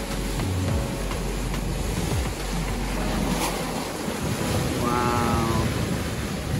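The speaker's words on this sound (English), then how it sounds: "the water is rough and it seems rocky over here" Rough ocean water churning against a rocky Hawaii shore, a loud continuous wash of surf mixed with heavy wind buffeting the microphone, with no pauses.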